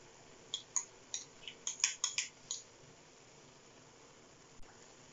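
A spoon clinks and scrapes in a pan while homemade khoya mixture for gajar ka halwa is stirred, a quick burst of about ten bright metallic taps up close, then near quiet with one last faint knock.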